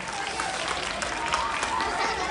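Audience at a school music day event applauds steadily, a dense wash of clapping from a crowd that holds evenly throughout.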